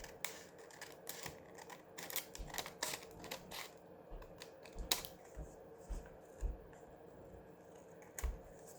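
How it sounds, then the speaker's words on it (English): Scissors snipping through paper up close, a series of sharp irregular clicks and cuts with brief pauses between them. "let me see if I can just make this straight with my scissors"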